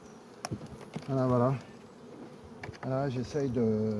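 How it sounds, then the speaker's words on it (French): Honeybees hum around an open hive as frames are shifted, a low background drone broken by two loud close buzzing bursts as bees fly near, with someone speaking briefly in between. "Les abeilles sont un peu folles en ce moment."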